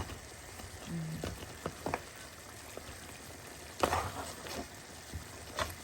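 Hot sauce poured over fried crab on a tray, giving a soft, quiet sizzle with scattered crackles and pops spread across several seconds, no voices.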